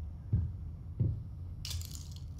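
Glass cracks underfoot in the video game Layers of Fear: two soft, low footfalls land about half a second apart, then a brittle, bright crackle of breaking glass follows.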